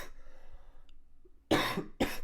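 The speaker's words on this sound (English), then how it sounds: "Cough, cough." A person coughs twice, two sharp, loud, close bursts about half a second apart, coming after a stretch of near silence.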